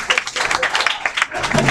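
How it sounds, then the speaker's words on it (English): Brief audience applause on the Chris Musso Show: a dense, bright patter of many hands clapping together, moderately loud and continuous. "All right, give them a big round of applause."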